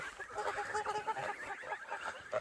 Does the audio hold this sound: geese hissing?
yes